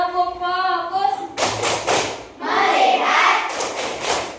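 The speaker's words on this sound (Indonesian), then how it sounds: "kita tepuk fokus dulu ya" A class of pupils performs the rhythmic 'tepuk fokus' clapping chant, with several bursts of group claps and thuds, loud and close, alternating with voices chanting together in a classroom.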